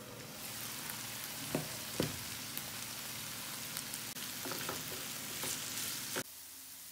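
Tofu and leek frying in a pan with rice, producing a soft, even sizzle like light rain that continues throughout, with a few scattered clinks and scrapes of stirring, fairly quiet and without speech.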